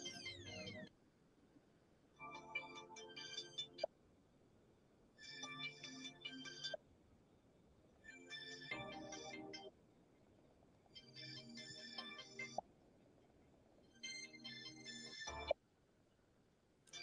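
A phone call's ringback tone repeats in evenly spaced electronic bursts, about seven rings separated by short silences, fairly clear and alone.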